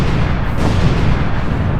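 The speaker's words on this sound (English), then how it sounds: "that could be your company name emerging from these explosions right behind me" A continuous deep rumbling roar of explosions, loud and sustained, with dense low-end booms and no voices.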